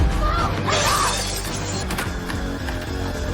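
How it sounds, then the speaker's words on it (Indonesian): Glass ventilation window smashed in a slasher film scene, a loud shattering crash near the start with debris and film score continuing underneath. "Untungnya, Megan dengan segera memecahkan kaca ventilasi dan menjadikannya jalan keluar untuk lari dari pengejaran psikopat itu."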